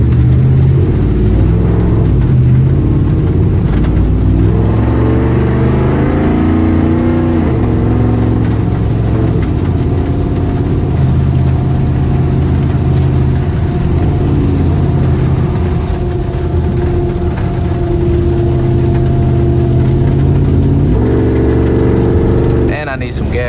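A lifted, tuned Ford F150 with a 5.0 V8, Borla Atak exhaust and an E85 tune revs loudly up close, its pitch climbing and falling early on before it settles into a steady, heavy drone that swells again near the end.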